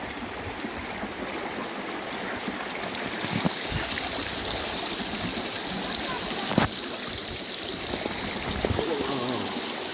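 Mountain stream water flowing down toward the Büyük Melen river in rural Sakarya, a steady broadband rush of running water filling the whole stretch with no talk.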